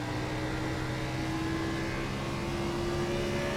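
Simulated race car engines from the iRacing game, Gen6 stock cars at ISM Raceway, give a steady, sustained engine drone with a held tone throughout and no talk over it.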